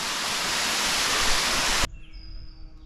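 A steady, loud rush of falling water fills the air, then cuts off abruptly, leaving a quiet background with faint high tones.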